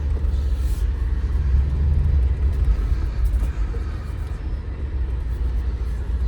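Low, steady engine rumble from a 2017 Mercedes-Benz G63 as it drives slowly and parks, broadband road and motor noise close by and fairly even throughout, no talking.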